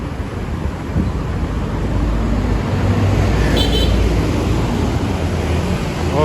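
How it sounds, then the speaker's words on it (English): Heavy street traffic in Vietnam makes a loud, constant roar of engines and road noise. One brief horn toot pokes through the din near the middle. "And honking."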